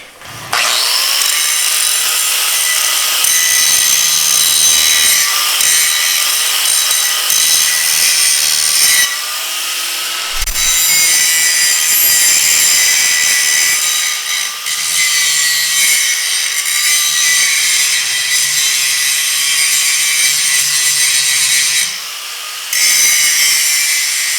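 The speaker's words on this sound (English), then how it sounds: "This cutting and grinding is no joke." An angle grinder cuts and grinds steel near a Dana 60 axle tube, a loud continuous high-pitched whine and abrasive rasp that holds nearly unbroken for over twenty seconds, briefly dipping once or twice.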